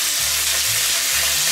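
Black Angus beef strips sear in a Dutch oven with a loud, steady sizzle and spatter that runs throughout without pause.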